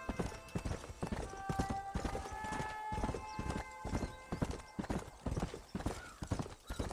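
Rhythmic hoofbeats of a horse being ridden in Red Dead Redemption, a quick, close, steady galloping clatter with a sustained whinny-like tone over part of it and no talk.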